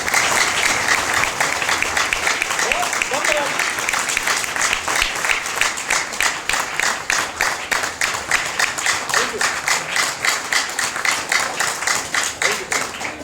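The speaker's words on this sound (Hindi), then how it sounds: "एक बार तालियां बजा दीजिए उनके लिए" A seminar audience in Jamui, Bihar bursts into sustained applause, with loud, rapid clapping that holds steady and then settles into a rhythmic, pulsing beat over thirteen seconds.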